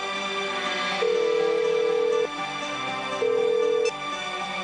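A phone ringback tone sounds twice, two steady electronic rings separated by a short gap, with a faint hum underneath.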